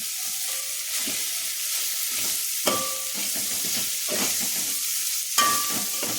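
Masala rice made with basmati grains, salt and colouring spices is sautéed in a pan, a steady close sizzle with repeated scraping stirs and occasional sharper clinks of the spoon against the pan, no voices.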